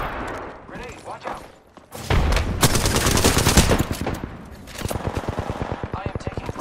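Apex Legends gunfire erupts in a loud, sustained burst, then breaks into rapid, evenly spaced automatic shots that taper off, with a thud and speech woven in.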